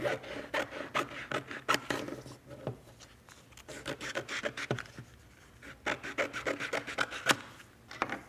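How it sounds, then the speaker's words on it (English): Sticky-back plastic being cut to size with scissors while lining it up around a flower design: soft, close snips and rustling scrapes in an uneven rhythm, quiet and intimate with no talking. "I'm just going to line this up and cut it just a little bit bigger than the design"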